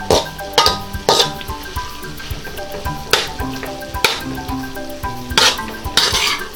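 Shrimp and broccoli are stirred in a pan, with a low sizzle under clanking utensil strikes against the metal and several sharper scrapes and knocks, close and distinct, while music plays softly underneath.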